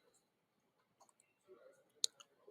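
A few light computer mouse clicks, close and quiet, with one sharper click standing out near the end against a nearly silent background.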